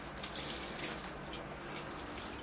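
Water soaking into and draining through bonsai soil around a Ficus religiosa, a soft steady trickle with faint splashy patter, quiet and continuous with no voices.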